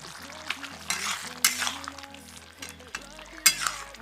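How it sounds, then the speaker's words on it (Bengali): Aloo do pyaza (potatoes and onions in spices) is stirred in a pan with soft scraping and light sizzling, occasional louder spoon knocks, and gentle background music underneath. "সব কিছু নাড়াচাড়া করে নেব।"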